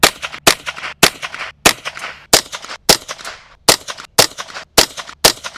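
Rapid series of sharp rifle shots from a Ruger 10/22 aimed at a playing card 75 yards away outdoors, about ten cracks at a steady pace, each loud and abrupt with a short tail.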